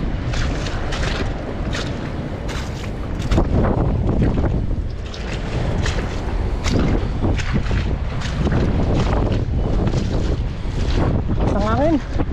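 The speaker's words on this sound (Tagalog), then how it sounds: "Ang hangin." Strong sea wind buffets a boat's open deck, a loud, continuous roar and rumble of gusts against the microphone, with a brief voice surfacing near the end.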